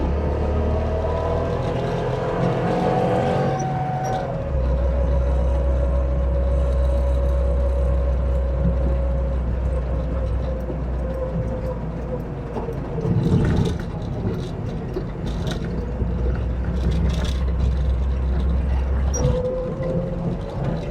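A Trabant's small two-stroke engine pulls hard while driving, a loud low drone that rises as the car accelerates, steady for most of the stretch with brief shifts and road noise around it.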